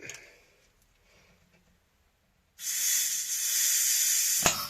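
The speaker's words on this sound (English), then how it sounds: "I'm losing pressure there. It's coming out of the bleed valve." Pressure escaping from the bleed valve of a Honda CB250RS motorcycle during restoration: after a quiet stretch, a sudden loud, steady hiss starts and runs to the end, close by, with no talking.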